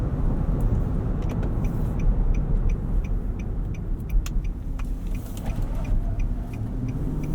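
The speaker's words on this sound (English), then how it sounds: "A lot of nice punch from this V8." Steady low engine rumble and road noise inside a 2018 Infiniti QX80 4WD with its V8 running while cornering, continuous and fairly loud, with faint ticking clicks scattered above.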